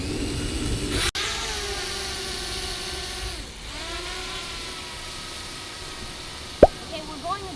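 A Syma Sky Phantom toy drone spins up and lifts off, its small motors rising into a thin whirring drone that bends in pitch, close by with a voice talking over it.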